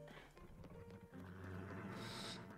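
Hooves of a beige horse with gray spots clip-clop in a video game, a quick steady trot of close, distinct footfalls heard alone.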